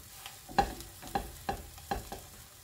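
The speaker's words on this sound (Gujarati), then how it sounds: "એમાં આપણે લીલા ધાણા પણ એડ કરી દઈશું અને ફરી પાછું બધું મિક્સ કરી લઈશું મસાલાને સારી રીતે" Masala mixed with fresh coriander leaves being stirred for Jodhpur onion kachori sticks, giving four soft, evenly spaced scraping strokes close by with a faint background hiss and no talking.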